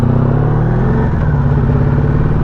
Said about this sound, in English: Good sounding bike though.